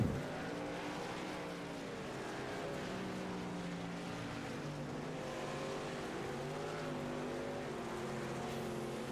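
Race trucks of the Northwest Racing Truck Series roar around the Knoxville racetrack during the final heat, a steady layered engine drone with shifting pitches from several vehicles, fairly distant and continuous without pause.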